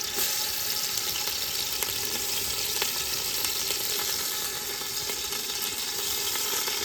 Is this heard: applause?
no